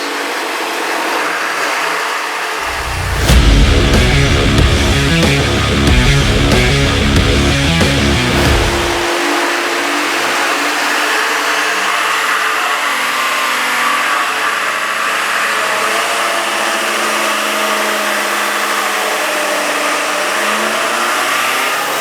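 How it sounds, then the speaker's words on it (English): A Duramax diesel engine roars under load on a dynamometer for several seconds, loud and close, then cuts back, leaving a steady mechanical hum with a faint whine. "so we just did a dyno pull"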